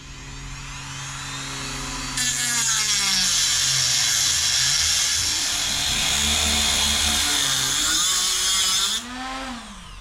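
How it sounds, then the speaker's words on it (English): A Dremel rotary tool with a cutoff disc grinds through an 8mm metal bolt. A loud, high, steady whine starts after a spin-up, holds for about seven seconds, then drops back as the cut stops. "So I'm going to do a quick comparison on this 8mm bolt with the Dremel."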